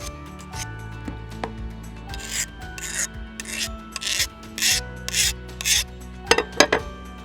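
Rhythmic rasping strokes of a file sharpening a garden tool's metal blade, about a dozen scrapes, close and fairly loud, with some clunks between.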